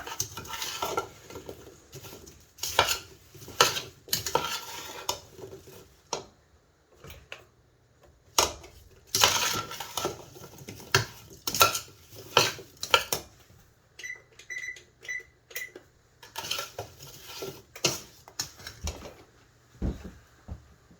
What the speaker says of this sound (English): Toss all the apples and incorporate all these spices and sugars into the apples.